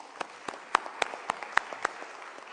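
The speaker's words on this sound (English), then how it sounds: "let's give our panelists a big hand of applause." Audience at a trade and investment conference clapping for panelists, a sparse run of distinct individual claps at an irregular pace, moderately close, with no talk.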